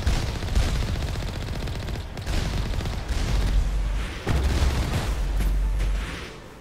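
Sustained rapid gunfire and booming shots from a sci-fi shooter game, Mass Effect Legendary Edition, loud and dense across the whole stretch with brief gaps between bursts.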